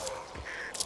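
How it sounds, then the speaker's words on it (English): A short crow caw in the video game Back 4 Blood, a brief harsh call over low background ambience. "You scatter those birds, you might as well holler."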